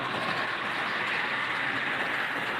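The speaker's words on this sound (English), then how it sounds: "I like to look at the back of the train as it goes by to see the observation cars." A model Christmas train with observation cars runs steadily along the track with a continuous rumbling hiss, no voices.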